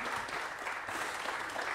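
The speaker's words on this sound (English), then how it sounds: "Oh, you can applaud if you like." An audience claps steadily after a talk at a circular economy community event, a dense, even wash of hands that fills the whole short stretch without a pause.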